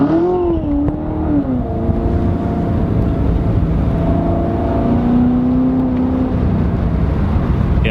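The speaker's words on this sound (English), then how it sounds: "just the slightest touch on the throttle and this thing goes crazy" A 2016 Chevrolet Corvette Z06 engine revs up close, its pitch rising and falling in a steady loud roar with no voices.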